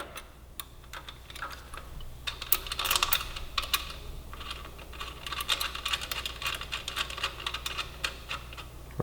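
Small metallic clicks and ticks come from a friction wrench turning an installation screw into a jack nut while a toe guard is fitted to a Yamaha R3 motorcycle, a close, quiet, irregular ratcheting patter.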